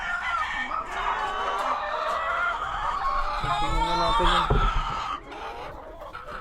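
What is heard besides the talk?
chickens clucking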